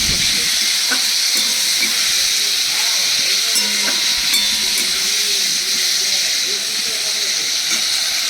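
Ginger, cumin and chili masala paste sautéing in a pan as a dal-based vegetable curry is cooked, a steady broad hissing sizzle that fills the whole clip, close and continuous, with faint clinks of stirring.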